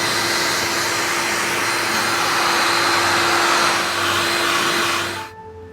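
A heat gun blows steadily while shrinking heat shrink tubing during a VW Eos water leak repair, a loud continuous airflow roar with a whine that cuts off abruptly near the end.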